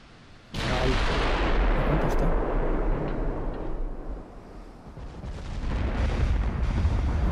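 Video game gunfire breaks out as a sudden heavy boom and then a sustained rumbling barrage, loud and dense, easing slightly before swelling again.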